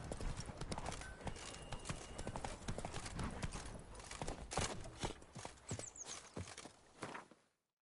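Roach, the horse in the video game The Witcher 3: Wild Hunt, clip-clopping at a steady walking pace. The hoofbeats run continuously beside other game sounds and fade out at the end.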